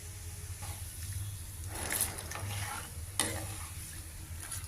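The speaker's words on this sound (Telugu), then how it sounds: "ఇది పోపు వేయించుకోవాలి" Whole spices with cumin sizzle in cold-pressed groundnut oil, a quiet steady frying crackle with a few sharper stirring scrapes and clinks, heard close without any talk.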